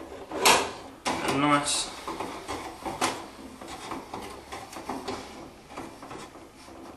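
A 14mm spanner tightens a nut over a washer and plastic locking piece on a Tubz vending tower: scattered close metallic clicks and scraping rubs among handling noises, with a person talking.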